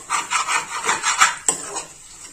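Potato halwa being stirred and fried in a kadhai: a steady scraping, rubbing rhythm of a spoon working the thick mixture against the pan, repeated strokes close up with a couple of sharper knocks.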